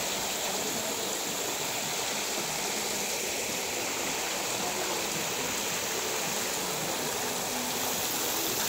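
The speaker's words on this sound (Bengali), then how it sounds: "আর এই ঝর্ণার আওয়াজ" An outdoor fountain at a restaurant in Shimultoli, Gazipur, pours and splashes water in a constant, even rushing wash that holds steady from start to finish with no breaks.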